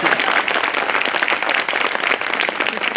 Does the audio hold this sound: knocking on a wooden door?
no